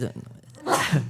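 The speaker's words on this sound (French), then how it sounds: "à tes souhaits" A single sharp human sneeze bursts out in the second half, loud and close, after a moment of muffled breathing, in an indoor speaking setting.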